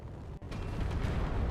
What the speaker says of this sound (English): that's a nice lot of explosions